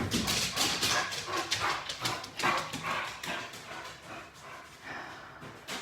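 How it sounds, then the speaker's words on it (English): Anxious 50-pound pet dog standing on the back of a couch, whimpering and barking in a steady run of close, repeated bursts throughout. "I never thought we would have a dog with anxiety."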